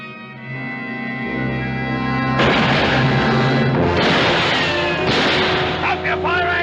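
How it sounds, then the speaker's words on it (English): Gunfire in a western TV episode: loud, close shots and booms crowd in on each other amid shouting voices and other commotion. "Stop shooting! Stop firing! Stop firing!"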